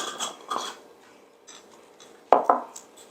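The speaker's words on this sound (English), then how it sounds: "We're going to just blend that up." Creole seasoning being mixed into breading in a bowl for air-fryer fried green tomatoes, heard as intermittent scraping and tapping clinks of a utensil against the bowl, one sharper knock near the end.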